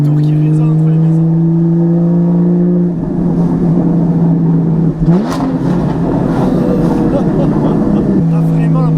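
A Porsche 981 Cayman GT4 engine drones loudly at low town speed, its note reverberating between houses and swelling briefly as the revs rise and fall, with a voice speaking over it.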